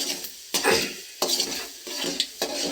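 Moong dal frying in hot oil with mustard seeds in a pan, a soft steady sizzle broken by a few sharp metallic stirring scrapes, close and without talk.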